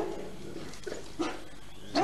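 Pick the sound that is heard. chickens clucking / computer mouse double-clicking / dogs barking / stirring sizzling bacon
dogs barking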